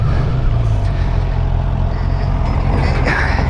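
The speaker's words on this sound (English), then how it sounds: "I'm hoping that this induction noise is coming through on video." Riding a Suzuki GSX-R 750 motorcycle, its engine induction roars loud and continuous with steady low rumble and wind rush throughout.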